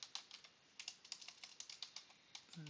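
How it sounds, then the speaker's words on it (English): Typing on a computer keyboard, a quick, uneven run of soft key clicks close by in a quiet room. "when I type something like"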